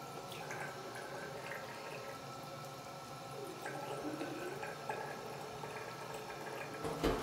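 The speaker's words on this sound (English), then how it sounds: "So I'm gonna put water in it." Water runs and trickles into a container, a soft continuous splashing that grows slightly fuller toward the end.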